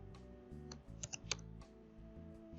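Keys on a computer keyboard are tapped in a short, uneven burst while text is entered into a design program, the close, crisp clicks standing clearly above a quiet room.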